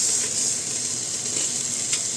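Fish frying in a hot pan for a Chinese soup, a steady close hiss and crackle of oil with faint spitting pops, no voices over it.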